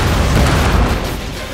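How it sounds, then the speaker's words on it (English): A cannon volley in the Empire: Total War battle game booms out as a loud, dense rumble of overlapping blasts that fades slightly at the end. "the first cannon volley took out a lot of guys"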